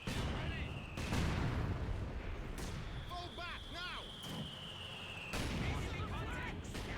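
Mortar fire in the World War II strategy game Company of Heroes 2, with several dull, booming thumps spaced a second or two apart over a busy battlefield bed, and a high whistling tone overhead.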